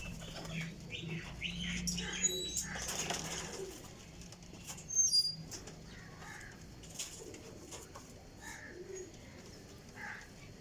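Rampuri Teddy high flyer pigeons flap their wings in a few sharp flurries, one louder burst near the middle, amid soft intermittent cooing and scattered chirps from a close flock.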